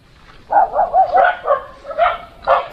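A quick run of dog barks, several in a row, fairly close and loud, with a short pause before a final bark.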